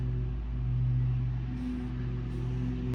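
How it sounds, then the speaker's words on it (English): A lawn mower running outdoors at an apartment complex, heard as a steady low droning hum with a constant pitch throughout, distant and unbroken, with no talking. "they are mowing the lawn over here at the complex"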